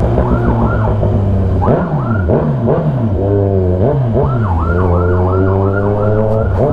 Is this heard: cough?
no